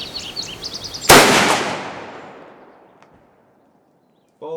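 A single loud Mosin AA9130 rifle shot cracks out at an outdoor range, its sharp blast trailing into a long fading echo, with birds chirping before the shot and a faint click afterward.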